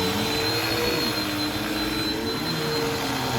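A Bissell 2252 CleanView Swivel upright bagless vacuum cleaner runs with a steady motor whine and broadband airy rush, constant and fairly close, without talk.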